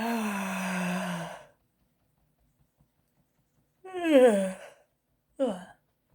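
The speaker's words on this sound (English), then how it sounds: "Big yawn out." A long voiced exhale during a breathing exercise, followed after a silence by a rising, wavering yawn-like vocal sigh and a shorter breathy vocalisation, close and alone.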